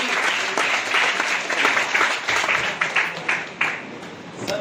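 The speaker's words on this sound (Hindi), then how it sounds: "एक जोरदार तालियां" Audience breaks into enthusiastic applause at a direct selling event, a dense wash of clapping from a crowd that pulses and gradually thins over a few seconds.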